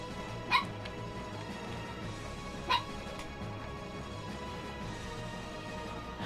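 In Minecraft 1.14.4, a dog lets out two short, sharp barks a couple of seconds apart, fairly faint over a steady background hum.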